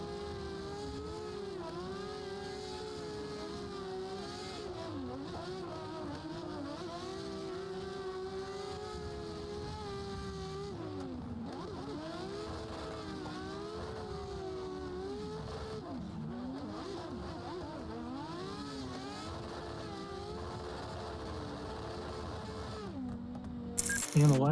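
Several drift cars in a sim racing game, engines droning and revving together with rising and falling pitch as they slide, a steady dense roar throughout with no talk, ending in a brief louder burst.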